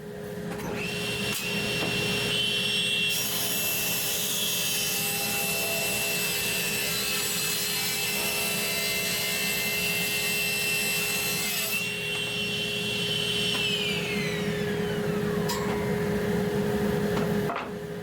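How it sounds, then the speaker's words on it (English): Power saw cutting 2x12 lumber boards to size, a steady loud whine with the blade biting into the wood, continuing throughout and pitching down as the cut ends. "So I'm going to cut these down to size and then we'll mount them to the plywood."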